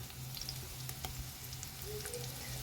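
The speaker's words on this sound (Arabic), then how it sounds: "هنزل مع البصل بتاعي عشان ياخد نفس التحميره شويه الثوم بتاعي" Onions and garlic frying in a pan for Egyptian sangari fish, a quiet steady sizzle with faint crackles and a low background hum.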